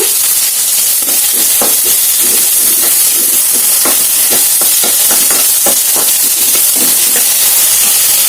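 Thin tomato slices hit a hot pan and sizzle steadily, a loud, constant frying hiss with bursts of crackle and occasional stirring, close up and with no voices.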